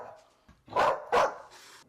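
A dog barks twice in quick succession, close and loud, each bark short and sharp with a faint yip before them and quiet between.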